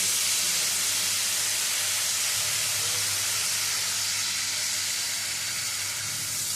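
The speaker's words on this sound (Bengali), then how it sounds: "এখন এর মধ্যে দিয়ে দেবো বেটে রাখা পেঁয়াজ রসুন আর কাঁচা লঙ্কা" Paste of onion, garlic and green chili frying in hot oil gives a steady, loud, close sizzle and hiss that runs unbroken the whole time, with no talk.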